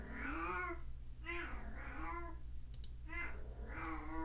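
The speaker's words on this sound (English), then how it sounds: "That's a loud cat." A cat meows loudly indoors, four or five drawn-out, wavering yowls in a row, close to the listener, with a steady low hum behind them.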